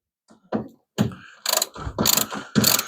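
A ratchet tightens a fitting on a Hemi Plymouth Duster build, giving close, crisp bursts of rapid clicking in several short runs separated by brief pauses.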